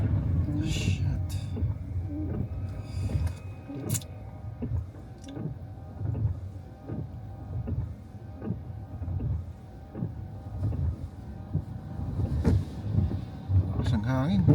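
Strong wind buffets a moving car during rough weather, a steady rushing roar with irregular gusts and thumps close to the microphone, while people talk inside.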